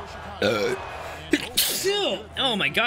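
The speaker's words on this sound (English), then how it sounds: "that was a burp sneeze at the same time" A man's combined burp and sneeze, loud and close, a sudden explosive burst while playing NBA 2K15 on PC, with him talking and exclaiming around it.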